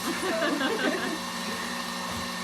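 A stand mixer whisk whirs steadily around a bowl as it beats Swiss meringue, a continuous close motor drone with scraping friction and a faint voice briefly underneath.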